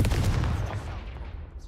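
A Confringo fire spell blast in the game Hogwarts Legacy, a burst of crackling explosive impacts that quickly decays into a fading rumble, with no talking.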